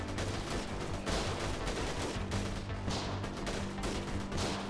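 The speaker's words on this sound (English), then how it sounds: "they are shooting from over there, but I can't see anyone" Enemy gunfire in the video game Freeman: Guerrilla Warfare, a dense, continuous crackle of distant shots and bursts running the whole time over a low steady rumble, with no voices.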